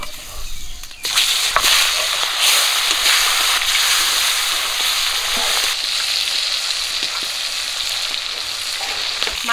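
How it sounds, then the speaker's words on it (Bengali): Rohu fish pieces frying in hot oil, a loud, steady, close crackling sizzle that runs continuously with occasional faint clicks of a utensil. "বাকি মাছগুলোও ভেজে নেব"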